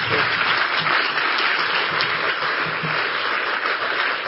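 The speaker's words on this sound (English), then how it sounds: "Can we give them an applause too, please?" Sustained, dense applause fills a hall during a bishop's day session in Canterbury, an even wash of many hands clapping at full volume from start to finish.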